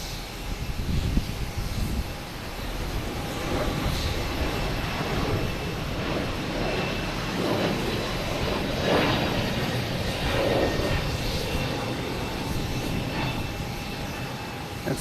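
Airliners including WestJet and Delta jets at Boston Logan Airport, a continuous broad jet engine roar heard from a distance, with no talk.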